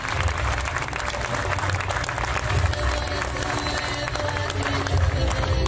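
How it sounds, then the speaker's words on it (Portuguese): An audience at a political candidate-list presentation in Leça da Palmeira, Matosinhos, claps steadily, a dense, sustained applause with some crowd murmur mixed in throughout. "Senhor da Hora, para quem também peço uma salva de palmas"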